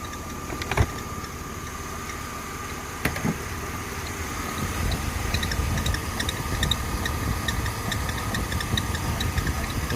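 A Mercedes C-Class W204 engine idles after starting, and a drive belt squeals steadily as a faint high whine over the low engine rumble, with occasional ticks, growing slightly fuller after a few seconds.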